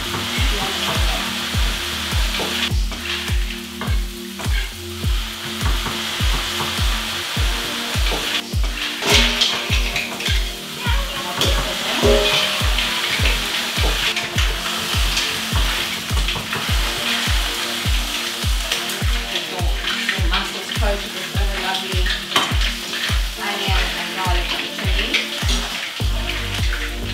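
Onions fry in a pan for prawn and mussel linguini, a continuous loud sizzle with steady, regular scraping strokes as they are stirred, close up and without talk.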